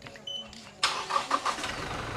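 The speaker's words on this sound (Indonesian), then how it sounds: "Sekarang kita coba untuk menghidupkan mesinnya dulu dari jarak jauh ya, dari remote, dengan cara menekan bintang 2 kali." A Toyota Innova Reborn's engine starts remotely from the key fob, cranking briefly and then catching into a steady idle, heard from nearby and fairly loud.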